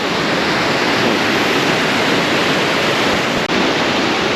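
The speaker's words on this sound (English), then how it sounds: "I want to try to get to this little waterfall thing." A waterfall on the Koosah and Sahalie Falls trail roars in a loud, continuous broadband rush that stays steady throughout with no voices.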